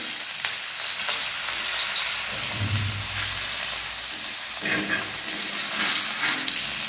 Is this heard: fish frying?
yes